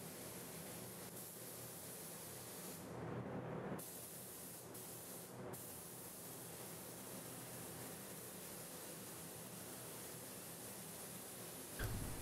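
A steady, even hiss of a paint spray gun runs continuously for several seconds while painting a vintage motorcycle tank, with a short louder surge partway through, and no voices.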